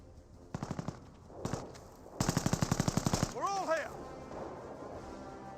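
Machine gun fire in Company of Heroes rattles out in rapid bursts, loud and close, alongside other battle effects and a whistling, descending tone, while a commentator talks over it.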